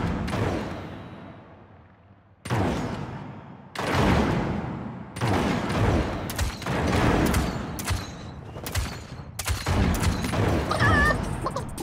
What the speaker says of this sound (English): Gunshots are very, very loud.